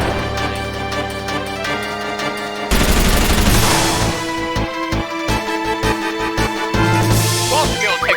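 Quistis's Shooting Star limit break in Final Fantasy VIII: a loud, dense barrage of rapid impacts and booms layered over game music, intensifying partway through and continuing in a sustained volley.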